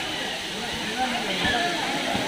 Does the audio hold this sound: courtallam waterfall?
yes